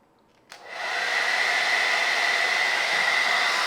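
A hair dryer set to high power, running off a Ugreen PowerRoam 1200 portable power station, clicks on and then whooshes with a loud, steady roar and a sustained whine, close up and alone.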